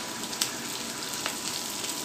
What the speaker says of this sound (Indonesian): ini akan saya goreng sampai kering